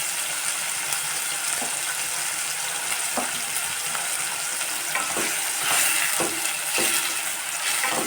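Tomatoes with a little tamarind are stirred in a pan for a coriander chutney, with a steady sizzle and frying hiss throughout and soft scraping strokes at intervals, close and continuous.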